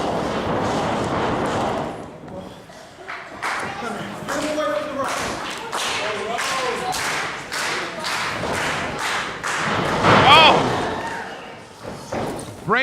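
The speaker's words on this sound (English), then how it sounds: "Well, Rome, good shot to the midsection" Pro wrestling match with repeated thuds and slams of bodies hitting each other and the ring, a steady run of impacts under constant commentary and crowd noise.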